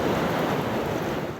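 Storm surf and howling wind batter the Massachusetts coast during a nor'easter at high tide, a loud, dense, unbroken roar of crashing Atlantic waves with wind buffeting the microphone.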